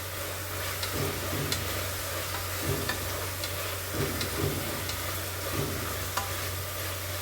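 Spinach and sprouted green pea rice stirred in a pan, a constant low sizzle with soft scraping strokes repeating every second or so, close and moderately quiet.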